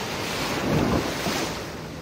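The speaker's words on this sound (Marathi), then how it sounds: "लाटा भरपूर जोरात होत." Strong ocean waves wash onto a beach at Nusa Penida, Bali, in a loud steady roar of surf mixed with wind noise, swelling briefly in the middle.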